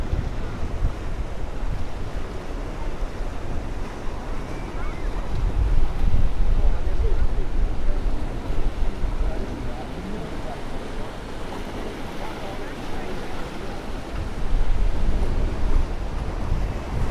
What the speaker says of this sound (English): This is my favorite area of South Beach. To listen to the waves,